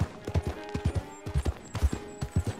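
A horse's hooves clip-clop in Red Dead Redemption 2, a brisk uneven rhythm of hollow thuds close by, with no talking over it.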